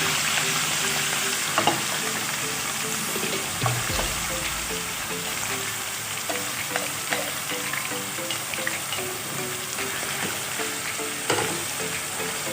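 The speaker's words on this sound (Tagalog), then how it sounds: "nagpainit na ako ng oil sa pan. So, isi-sear lang natin itong sirloin." Sirloin steak sears in hot oil in a pan, producing a continuous, dense close sizzle with scattered small pops and a few faint clicks throughout.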